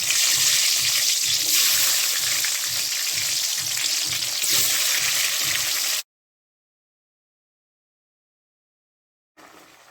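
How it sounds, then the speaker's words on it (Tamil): Tomato pieces go into hot oil in a kadai and set off a loud, steady sizzling hiss with a faint pulsing undertone. After about six seconds it cuts to silence, and it returns briefly at the very end. "நம்ம கடாயில் எண்ணெய் ஊற்றி சூடு பண்ணியிருக்கோம். இப்போ தக்காளியை போட்டுக்கலாம்."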